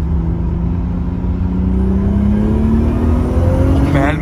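A GTR-like car engine revs steadily and loudly at close range, its pitch rising gradually with a faint whine, alone without talk.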